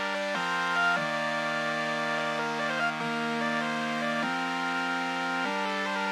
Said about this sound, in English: So the full melody with the chords sounds like this.